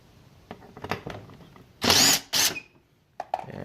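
A power drill drives a screw on a motorcycle headlight assembly for a Yamaha FZ6R. Two short, loud whirring bursts sit close together near the middle, framed by scattered clicks and handling taps.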